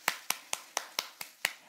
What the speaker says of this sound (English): we're also going to clap our hands